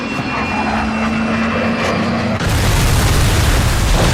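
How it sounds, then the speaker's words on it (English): A film's airplane roars in straight toward a man, a rising engine drone that suddenly bursts into a loud, dense rumbling blast as it passes overhead. "a plane in the distance is flying straight toward him"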